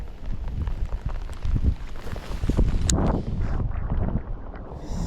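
Wind batters a bass fishing boat on open water during a summer outing, with continuous loud rushing gusts and microphone buffeting, a rain-like hiss over it and a brief crackle near the middle.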